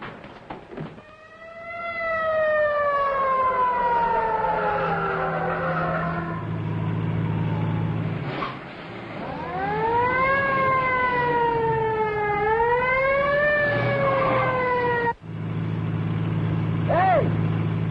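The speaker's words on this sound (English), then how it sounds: "Follow that ambulance." A wailing ambulance siren in a 1938 film scene, rising and falling in long sweeps over a running car engine, loud and close, with brief gaps.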